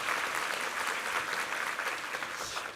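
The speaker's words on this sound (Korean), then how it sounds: "우리 황혜재 주의자님과 우리 이부 성가대에게 한번 힘찬 격려의 박수 드리겠습니다" A church congregation at a Sunday worship service applauds the choir and its conductor, a dense, steady burst of clapping that lasts throughout without a break.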